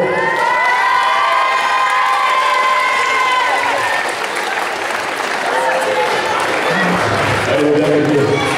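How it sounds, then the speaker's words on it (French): A crowd at a handicap wrestling match in Mirecourt, 2014, applauds loudly and cheers, with whoops and children shouting over steady clapping. Voices carry through the noise for the whole stretch. "Pouvez-vous applaudir bien fort."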